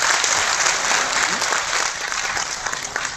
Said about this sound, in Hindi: ऐसे सनातन महापुरुष का स्वागत तालियों से होना चाहिए कि नहीं होना चाहिए?